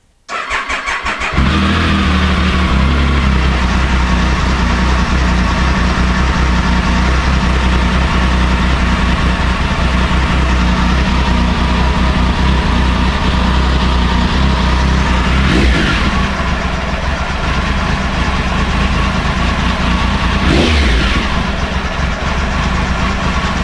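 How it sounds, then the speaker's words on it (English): A Triumph Tiger 955i Premier motorcycle engine, just after a major cylinder head gasket repair, runs loud and close at a steady idle, with a couple of short throttle blips rising and falling near the end. "So you heard the revs drop when I came off the accelerator"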